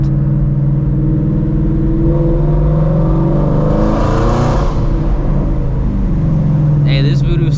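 Ford Shelby GT350 Mustang with its Voodoo V8 revving on a city street at night: loud, steady engine drone that swells into a rising rev around the middle, with a voice speaking over it.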